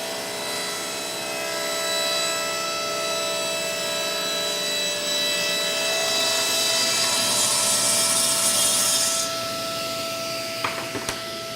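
A table saw rips white sapwood off a walnut board for a custom urn, a steady loud whine of the spinning blade and cut running the whole time, ending with a few sharp knocks.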